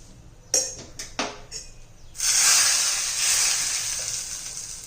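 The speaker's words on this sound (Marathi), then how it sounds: "आपण तुपाची फोडणी दिलेली आहे" A few sharp clinks and taps, then a sudden loud hiss as a hot ghee tempering with red chillies sizzles into a chutney, settling into a steady crackling fizz.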